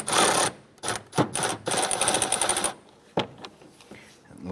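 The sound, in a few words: loosening 10mm radiator shroud bolts on a Chevrolet S-10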